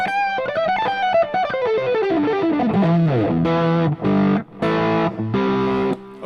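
Heavily distorted electric guitar through a Fractal AM4 amp preset with the gain eased up plays a descending melodic run, then sustained chugging chords that cut off in short gaps, loud and alone.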